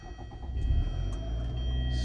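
A Hyundai Sonata car sitting at a low, steady engine rumble for a couple of seconds, a soft idle with faint clicks on top, no talking.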